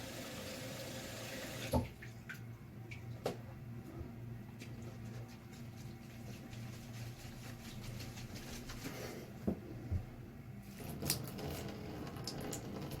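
Water pours and gurgles through the hose of an EHEIM Classic 250 aquarium canister pump during cleaning, a steady close-up wash with a few knocks and splashes, and no talk.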